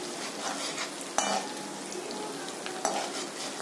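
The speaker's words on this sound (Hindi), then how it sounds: "ये जो हमारे जो लहसुन है इसको ज़्यादा पकाना नहीं है, बस हल्का सा ब्राउन ही करना है।" Garlic frying in a pan for Hyderabadi-style chicken 65, giving a steady close sizzle with two sharp stirring scrapes of a utensil against the pan.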